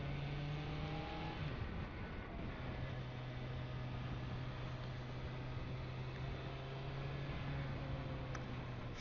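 Motorcycle engine riding through the Gareji desert, a steady loud drone with strong wind rush and a held low engine note that shifts slightly in pitch.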